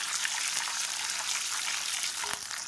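Shallots and garlic sauté in a pan for coriander chutney, giving a steady, even sizzle that hisses continuously with no pauses.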